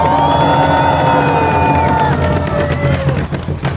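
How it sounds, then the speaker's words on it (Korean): A loud, dense crowd at an evening candlelight rally in Sejong roars with applause and cheers for a student, holding steady for several seconds with thin whistle-like tones gliding over the din. "우리 윤희나 학생에게 다시 한번 힘찬 박수 부탁드립니다"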